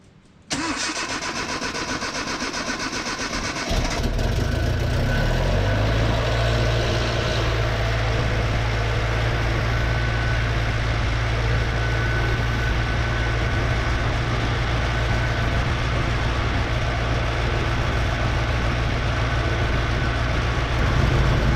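Datsun Roadster engine cranking briefly, then catching and settling into a loud, steady close-up idle that runs on evenly to the end.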